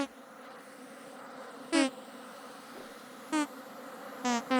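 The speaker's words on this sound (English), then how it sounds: "It's really hard to get a picture of, like, the bees." Bees in the video game Vintage Story give a steady insect buzz over quiet ambience, broken by three short, brighter tonal chirps spaced a second or more apart.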